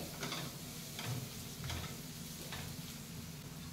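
Samosa filling of peas and green chilli with red chilli powder and turmeric is fried and stirred in a pan, a quiet sizzle with a few soft scraping strokes at an even pace.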